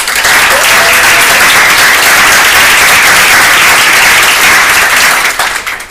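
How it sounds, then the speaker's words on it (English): A conference audience breaks into a loud, sustained round of applause, dense clapping filling the room steadily for several seconds before beginning to taper at the end. "Can we give them a round of applause?"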